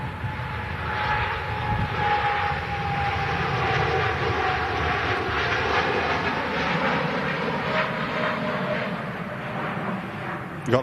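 Jet engines of an RC-135 at Manchester Airport roar steadily from a distance, a broad continuous rumble with a faint whine holding through, under light background chatter.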